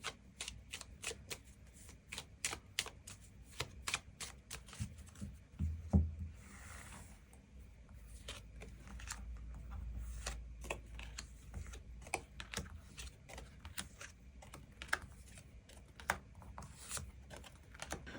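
A deck of tarot cards is shuffled and cards are drawn, a long series of quiet, rapid clicking card flicks at close range, with a brief low thump partway through and no talking.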